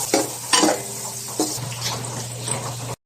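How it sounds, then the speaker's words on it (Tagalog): Sliced onion sautéing in hot oil in a pan, a steady close sizzle broken by a few scraping stirs, with a low hum underneath and no talking. "nagsalang na nga uli ako ng langis para akin na igisa ang sibuyas"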